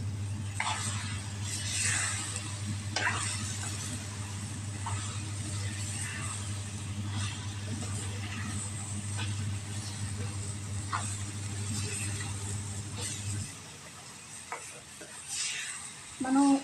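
Masala curry with fried tomato paste and the remaining ingredients being stirred in a pan, a steady scraping and gentle sizzle running continuously with a low hum beneath, then the hum cutting out near the end as faint clatter follows.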